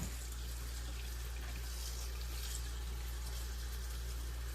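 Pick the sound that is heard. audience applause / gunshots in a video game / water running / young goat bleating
water running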